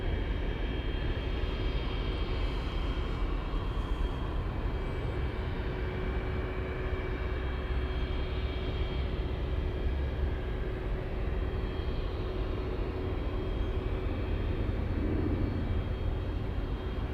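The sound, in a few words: Boeing 777 jet powering up for departure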